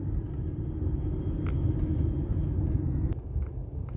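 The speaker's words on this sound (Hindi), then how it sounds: "traffic jam" Stop-and-go traffic in Batha, Riyadh, heard from inside a car as a steady low engine and road rumble, with a few faint clicks and knocks over it and no talk.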